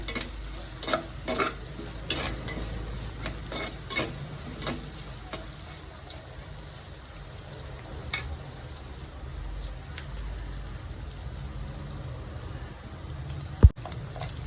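Dried prawn powder thoran fries in a pan with a low, continuous crackling sizzle, with occasional light stirring taps and one sharp knock near the end, no speech.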